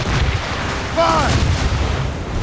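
Ship cannons in Assassin's Creed Rogue fire in a continuous low rumbling barrage, with a brief voice-like shout rising over the booming near the middle.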